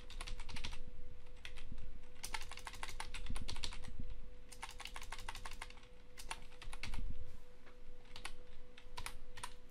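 Someone types a search on a computer keyboard, with quick bursts of key clicks separated by short pauses, close and fairly quiet over a faint steady hum.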